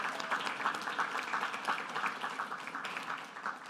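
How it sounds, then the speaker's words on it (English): Steady audience applause fills a gala hall at an annual indigent-defense fundraiser dinner, a dense, even wash of clapping held at moderate level for several seconds without talk. "Now that deserves applause."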